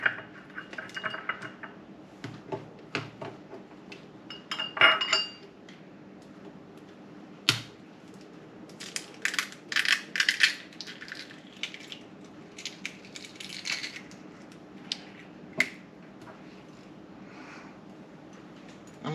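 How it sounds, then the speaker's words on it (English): Four small eggs cracked into a bowl in a home kitchen, with sharp shell taps and clicks scattered irregularly, some clustered bursts of crackly shell and drips, mostly close and moderate in loudness. "I'm going to break them up real quick and get them in this bowl"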